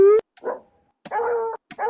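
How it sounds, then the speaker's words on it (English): A dog gives short whimpering yelps and howl-like cries, close and fairly loud, in three separate bursts over two seconds with no talk. "Okay, dog howling"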